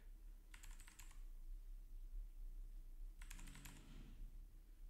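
Two short bursts of quick keystrokes on a computer keyboard, entering a username and password for a database setup, quiet and close against a low steady hum.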